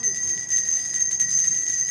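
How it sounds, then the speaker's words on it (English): Salvation Army red kettle hand bells ringing continuously with bright, sustained metallic tones, fairly close and clear, with faint voices in the background. "So go ahead and ring the bells."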